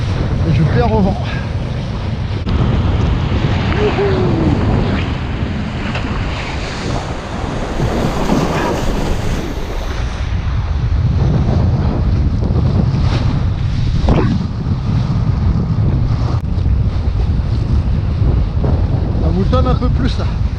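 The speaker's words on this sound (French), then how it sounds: "C'est-à-dire que le vent a forcé un peu." Strong wind at sea during kitesurfing roars steadily across the microphone over rolling surf and waves, loud and continuous throughout with no letup.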